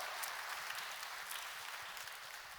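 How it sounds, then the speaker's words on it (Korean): A church congregation claps in welcome, a steady wash of applause, fairly faint and distant, with no talk over it. "여러분께 박수로 환영하시죠"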